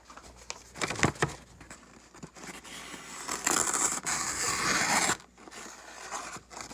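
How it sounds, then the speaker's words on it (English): A freshly sharpened pocket knife blade slices through paper with light finger pressure, producing soft scratchy swipes and brief crinkling strokes, close and quiet, in short bursts. "I'm just letting the blade slice"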